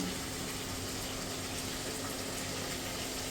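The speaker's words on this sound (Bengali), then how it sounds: "একটু জল দিয়ে" Water poured into a cooking pan of spices (cumin, coriander and chili powder), a steady, loud rushing gush that fills the whole moment without any speech.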